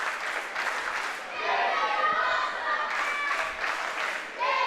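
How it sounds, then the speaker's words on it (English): Wrestling arena crowd cheering and clapping at a live DCW event in Fuquay Arena, a loud sustained roar that swells in waves with an announcer talking over it. "you hear the crowd here in Fuquay Arena"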